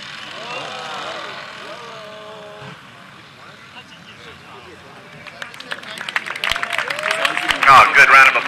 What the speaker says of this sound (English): Oh, good round of applause